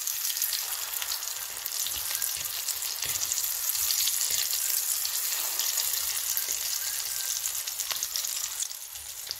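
Dal shami kebabs sizzle steadily in a pan of hot oil, a dense, even frying hiss that runs unbroken throughout with no talk.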